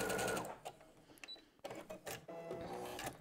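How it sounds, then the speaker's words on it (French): A sewing machine stitches a quilt seam for a flying geese block: faint, close bursts of rapid mechanical needle chatter, stopping briefly and then resuming. "je termine ma couture"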